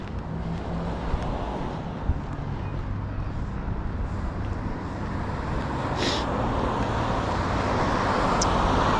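Road traffic noise on a spring day with leftover plowed snow nearby, heard as a continuous broadband roar of passing vehicles and wind that grows slightly louder toward the end, with no talking.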